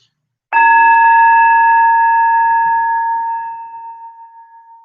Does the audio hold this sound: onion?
no